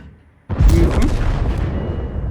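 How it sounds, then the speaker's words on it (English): A heavy artillery blast goes off in the tank battle game World of Tanks, hitting suddenly after a quiet moment and then rolling into a loud, sustained boom and rumble. "they're bearing the brunt of your artillery now"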